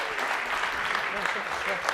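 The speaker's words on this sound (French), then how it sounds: "On l'applaudit très très fort, s'il vous plaît." Dense, steady applause from a crowd at a French municipal election rally for popular ecology, filling the whole stretch at an even level with no break.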